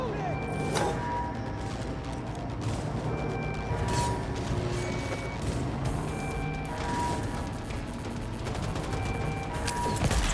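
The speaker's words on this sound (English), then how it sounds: "Keep shooting!" Sustained futuristic gunfire in a cyberpunk shooter firefight: rapid cracking shots and bursts repeat over several seconds amid a dense combat din, with a voice shouting in between.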